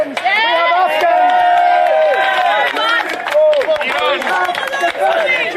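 Dense crowd noise from a street march heading to Scotland Yard in London, a loud continuous babble of many voices with scattered shouts and cheers, close and busy throughout.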